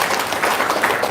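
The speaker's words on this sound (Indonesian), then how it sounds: "Tepuk tangan buat Bu Haji, luar biasa memang." Audience applause at a talk, a short, dense burst of many hands clapping together at close range, steady for about a second.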